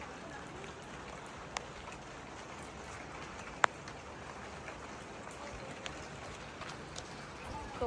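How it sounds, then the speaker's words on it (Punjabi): Light rain drops start falling again in a Pakistani Pathan village, a faint steady patter with a few sharp isolated drips standing out against the soft wash. "ਪਹਿਲੇ ਬਾਰਿਸ਼ ਰੁਕ ਗਈ ਸੀ ਤੇ ਹੁਣ ਫਿਰ ਕਣੀਆਂ ਸ਼ੁਰੂ ਹੋ ਗਈਆਂ"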